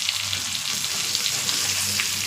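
Curry leaves frying in a hot masala, a loud, close, continuous sizzle and crackle with light stirring scrapes throughout.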